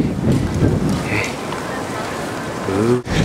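Strong, cold wind blows outdoors in winter Chicago, a steady broadband rush buffeting the microphone, with a brief low vehicle-like hum near the end.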